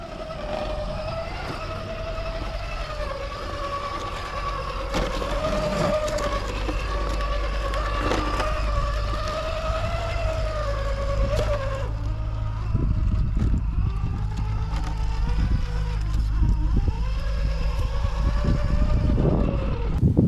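An Axial SCX10 Pro 4x4 RC crawler drives over a bridge and through an underpass, its small electric motor giving a steady whine that rises and falls with throttle, alongside scrapes and bumps of the tires on the course.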